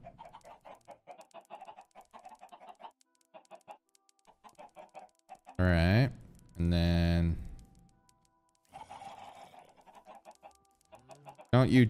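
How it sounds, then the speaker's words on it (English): Chickens clucking in the video game Minecraft, a few loud close bursts of fowl calls between stretches of quieter game sounds and someone talking. "All right, come on, chickens."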